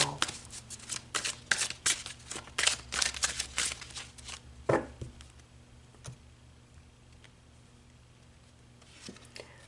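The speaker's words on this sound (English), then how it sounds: "when I was shuffling the deck" A deck of tarot or oracle cards shuffled by hand in a series of quick riffling bursts, close and crisp, busy at first and then thinning out to a few isolated flicks and taps.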